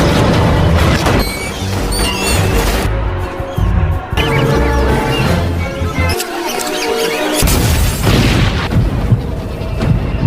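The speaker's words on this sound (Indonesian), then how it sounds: "Setelah beberapa tikus meledak" Loud booms and crashing blasts from rats exploding in a textile factory go off in quick succession, mixed with squeaks and a dense, chaotic rumble.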